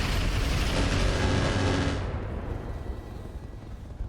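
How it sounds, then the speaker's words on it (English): An LRM-20 long-range missile launcher fires in the RogueTech BattleTech mod, releasing a loud, dense roaring volley of missile launches that holds for about two seconds and then fades into a lower rumble. "We're otherwise just going to fire the LRM-20."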